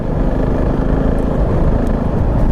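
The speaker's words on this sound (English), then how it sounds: "It's got that lovely single cylinder chatter that you get when you're in the wrong revs" A Husqvarna Vitpilen 701 single-cylinder engine chatters at the wrong revs, a loud, close, rough pulsing drone with a fast uneven beat running continuously under wind noise.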